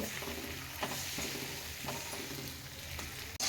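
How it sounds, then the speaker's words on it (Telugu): An egg fries with Maggi noodles in a pan, giving a dense, steady sizzle with faint stirring scrapes, close and even throughout, ending in a brief sharp knock. "ఇదండి ఎగ్ అయితే మంచిగా ఇట్లా మంచిగా ఫ్రై అయింది"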